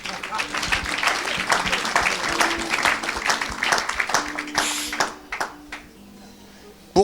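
An audience at a church gathering applauds for Jesus, a dense patter of clapping with scattered cheers and voices that gradually thins out and fades toward the end.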